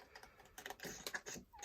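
Paper being cut by hand with a pair of scissors, a quick series of faint, close snipping and rustling crunches in an irregular rhythm, with no talking.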